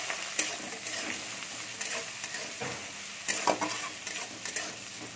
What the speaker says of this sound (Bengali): পেঁয়াজটা ভেজে নেবো আমি